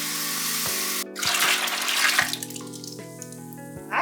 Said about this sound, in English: I'm gonna put cold water in the bag.